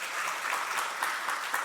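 A church congregation bursts into warm, steady applause during a Sunday worship service, with many hands clapping at once in a dense, even wash of sound that holds for under two seconds.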